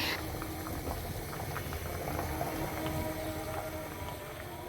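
Egg and cauliflower curry bubbling in a pan, a steady, continuous close simmer with soft popping bubbles and no talk.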